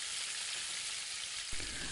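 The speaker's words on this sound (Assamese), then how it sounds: "লৰাই থকা অৱস্থাত কিন্তু মই হালধি নিদিওঁ" Pork fries in a pan, giving a steady, fairly quiet hiss of hot oil throughout, with one brief scrape-and-knock as it is stirred near the end.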